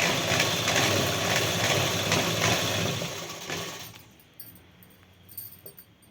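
A sewing machine runs steadily for about four seconds, stitching a second seam along the seat of a pair of trousers, then stops, leaving a quiet room with a few faint clicks.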